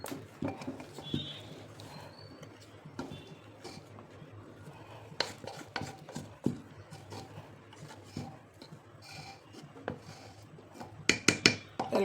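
Thick sorghum flour dough being stirred in a pressure cooker taken off the stove, with irregular scraping and knocking of a spoon against the metal pot, close and moderately loud, no talking.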